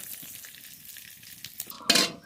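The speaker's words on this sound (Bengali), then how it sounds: "তেজপাতা, গোটা জিরে ফোড়নে।" Bay leaf and whole cumin seeds sizzle in hot mustard oil in a wok for a vegetable curry, a soft steady crackle that flares into a loud, bright hiss near the end.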